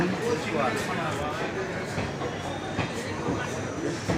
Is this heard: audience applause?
no